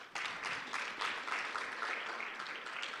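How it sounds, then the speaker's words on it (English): An audience at a youth economic council panel applauds a newly introduced panelist, a short burst of steady clapping from a crowd that continues for about three seconds without any talk. "Give her a round of applause."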